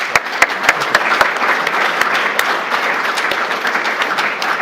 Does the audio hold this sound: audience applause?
yes